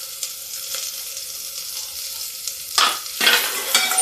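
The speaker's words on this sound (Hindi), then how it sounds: "अब इसको हम धीरे धीरे भूनते हैं।" Onion and garlic frying in a pan for jackfruit curry, a soft steady sizzle with louder bursts of stirring scrapes toward the end, close up with no talking.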